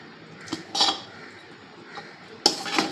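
Utensil clinks and scrapes as lemon rice is stirred together with fried ingredients in a pot, a few brief metallic knocks spaced apart against a quiet background.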